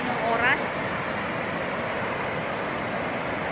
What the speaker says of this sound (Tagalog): Ito na yung tubig na lumalabas sa Magat Dam.